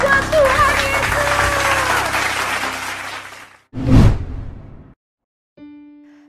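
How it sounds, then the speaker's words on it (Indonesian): A church children's service crowd claps and cheers loudly for several seconds, then fades; a short whooshing burst follows, then a steady electronic tone. "Beri tepuk tangan buat Tuhan Yesus."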